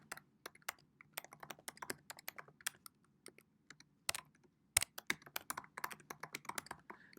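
Quick bursts of clicky keystrokes on a computer keyboard, close and fairly quiet, with brief pauses between runs of typing in a quiet room.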